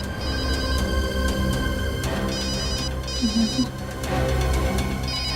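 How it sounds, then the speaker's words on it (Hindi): A phone ringtone rings repeatedly in a steady electronic pattern, loud and close, with a low hum beneath. "कब से फोन बज रहा है, उठा लो।"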